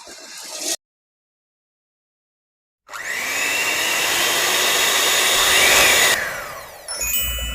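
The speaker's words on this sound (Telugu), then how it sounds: "ఇవి పూర్తిగా చల్లారిపోయిన తర్వాత మిక్సీ పట్టేసుకోవడమే." An electric mixer grinder whirs loudly, grinding cooled roasted ingredients for homemade sunnundalu sweets. The steady roar runs for about three seconds after a silent pause, then cuts off.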